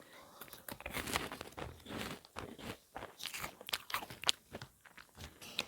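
Crunchy Banana Kick corn puffs being bitten and chewed close up, a steady run of crisp crunches and crackles with no talking.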